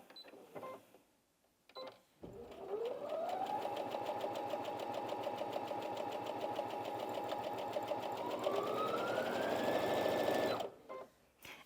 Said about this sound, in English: I'm going to start sewing